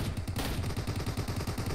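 Rapid gunfire from a PUBG Mobile match on the snowy Vikendi map, a dense run of sharp repeated shots at steady loud level throughout, with no talking over it.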